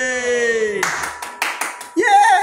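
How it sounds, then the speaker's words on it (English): A few sharp hand claps in quick succession, close and dry, set between a sung children's tune at an event, with a voice resuming right after. "Let's clap hands."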